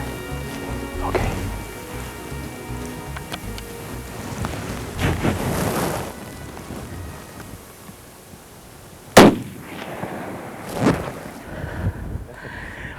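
A hunting rifle fires outdoors during a hunt in New Zealand: one sharp, loud crack, then a second, fainter report about two seconds later, over quiet background noise.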